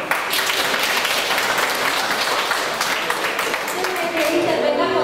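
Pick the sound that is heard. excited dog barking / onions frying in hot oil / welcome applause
welcome applause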